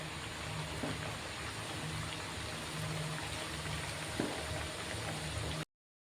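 Fish kachori deep-frying in hot oil, a dense, steady bubbling sizzle close up that runs evenly throughout with a few faint clicks, then cuts off abruptly.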